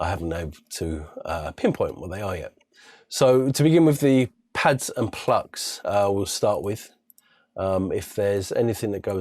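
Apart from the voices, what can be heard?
No distinct noise like a dog, phone or traffic.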